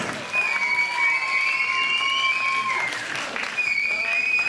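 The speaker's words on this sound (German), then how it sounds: "Könnte sagen, ein Applaus." Concert audience applauding at a heavy rock release show, a steady wash of clapping throughout with a sustained feedback-like tone ringing over it and brief shouts from the crowd.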